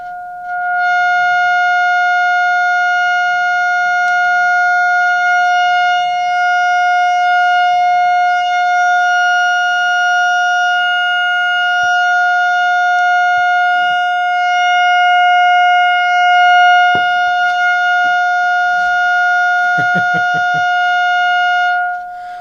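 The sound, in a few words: loud tone from 6SJ7 valve amplifier output stage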